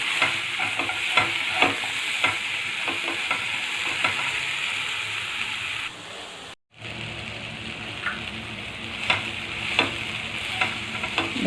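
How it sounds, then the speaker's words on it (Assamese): Okra fries with onions in a pan, a loud steady sizzle broken by repeated scraping stirs, close up and continuous apart from a momentary drop-out midway. "এতিয়া আমি এই পিঁয়াজত ভেন্দিখিনি ভালদৰে ফ্ৰাই কৰি ল'ম।"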